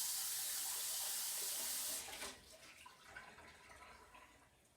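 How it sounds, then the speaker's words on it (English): Water from a kitchen tap runs steadily into a small saucepan for about two seconds, then gives way to softer splashing and trickling as the pan is rinsed nearby. "I'm just going to rinse and wipe this saucepan out."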